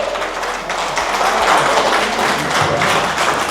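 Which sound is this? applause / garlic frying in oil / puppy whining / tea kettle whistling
applause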